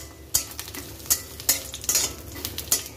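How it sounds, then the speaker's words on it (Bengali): Lentil badi being fried in a kadai: a soft continuous sizzle of hot oil broken by repeated sharp scrapes and clinks of a spatula stirring against the pan, close up, with no voices. "এবার এই যে বড়িটা ভাজবো"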